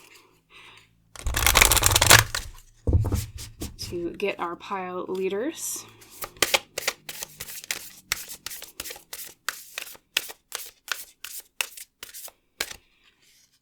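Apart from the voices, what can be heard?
shuffling tarot cards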